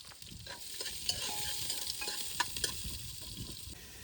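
Onions sizzle and fry in a pan on a stove in a Ladakh road-trip kitchen, a quiet, steady crackle with occasional small pops and stirring sounds, close and without talking.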